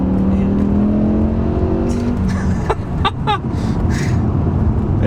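A BMW M6 with a V10 engine accelerates hard, its loud, steady drone climbing in pitch over the first couple of seconds and then breaking into sharp shifts and bursts as it pulls on.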